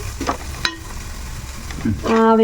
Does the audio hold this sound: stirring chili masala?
yes